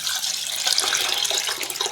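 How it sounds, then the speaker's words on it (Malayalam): Water pours steadily into tamarind being soaked for a sardine fish curry, a continuous close splashing gush like a running tap filling a vessel, with no talk. "നമ്മൾ ഈ പുളി എടുത്തിട്ട് നമ്മൾ വെള്ളത്തിടണം"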